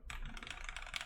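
A brief burst of keystrokes on an OTD 360 Corsa mechanical keyboard with PBT keycaps, a few close, muted clacks in quick succession.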